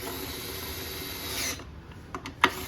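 Oil pan bolts being tightened on a 6.0 Powerstroke diesel short block, a steady whirring power tool run for about a second and a half, then stopping, followed by a few brief metallic clicks and a sharp clack.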